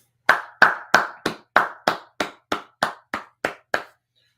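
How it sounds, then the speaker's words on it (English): Twelve loud, close claps from a single person's hands, evenly spaced at a steady moderate rhythm with sharp attacks and short decays, then silence. "All right, let's clap it up."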